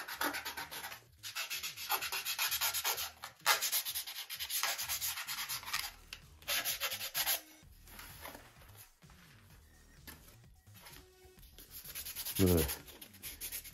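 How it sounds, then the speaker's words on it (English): Sandpaper rubs steadily back and forth along the edge of a part for a 60-size Top Flite P-40E Warhawk model airplane, a close, continuous scratchy rasp with brief pauses and a softer stretch near the end. "I'm gonna do that just by sanding this edge. Make sure I got a good edge sanded."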